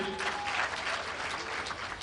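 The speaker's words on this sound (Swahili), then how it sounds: "Tumpigie makofi tafadhali" Applause from an audience at a Kenyan signing ceremony led by the president, broadband clapping holding steady throughout with no voices above it.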